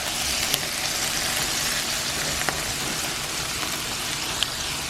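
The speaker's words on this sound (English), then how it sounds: "Leo's gonna put a little bit of butter and he's gonna fry them" Food frying in butter in a hot pan gives a steady, dense sizzle close by, with small crackles and pops scattered throughout and no voices.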